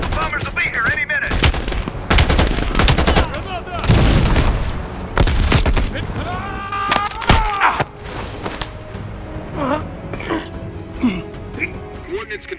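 Machine gun fire in a Call of Duty battle, loud bursts and rapid rattling volleys mixed with thuds and booms, while voices speak over the combat; the firing is heaviest early and thins out later.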